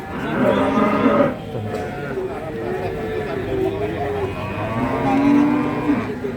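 Cattle moo at the Babat Lamongan cattle market in Lamongan, long low calls rising and falling one after another amid the busy crowd's steady murmur.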